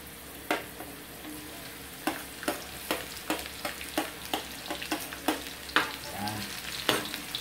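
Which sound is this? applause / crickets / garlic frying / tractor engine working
garlic frying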